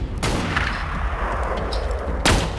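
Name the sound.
gunship gunfire in the video game Borderlands 2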